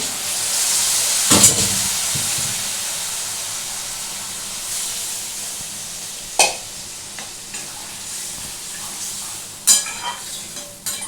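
A small splash of water hits a hot pan of frying bottle gourd and shrimp, bursting into a sharp sizzle that settles into steady hissing, broken by occasional stirring scrapes.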